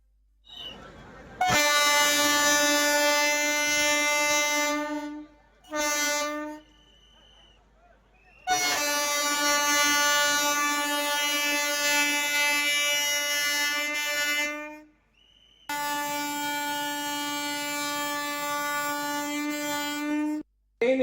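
An express train sounds its horn in three long, loud, steady blasts separated by short gaps, with a brief toot between the first two.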